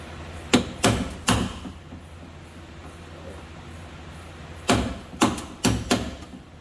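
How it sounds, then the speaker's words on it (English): A hammer whacks at a truck's stuck window regulator: three sharp metallic blows in quick succession, a quiet pause, then four more close, loud strikes. "try and whack it with a hammer and see what happens"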